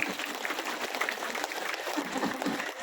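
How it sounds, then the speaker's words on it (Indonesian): Audience clapping at a stage performance in Ciamis, a dense steady patter of hands filling the space with no voices standing out. "Jadi oh ya tepuk tangan lagi."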